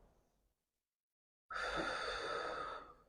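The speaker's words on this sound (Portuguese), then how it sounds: "inspirando pelo nariz e soltando pela boca, dessa maneira, ó. Soprando, fazendo esse barulho." One deep breath is blown out through the mouth, a loud airy exhale of about a second and a half following a brief quiet pause.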